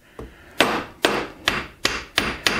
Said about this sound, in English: Just grab a bigger hammer. Tap it, tap, tap.